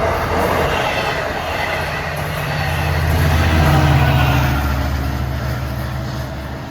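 LIRR train 559 from Oyster Bay to Jamaica rolls past on a triple-track stretch, a loud steady rumble of wheels with faint squealing and clacking that swells in the middle and eases off.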